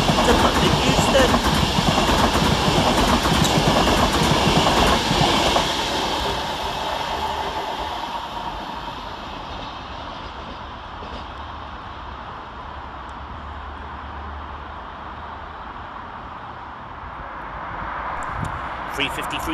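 A British Rail Class 390 Avanti passenger train to London Euston roars past close by at Bescot Stadium station, loud rumbling and rushing for several seconds, then fades to a lower steady rumble as it moves away.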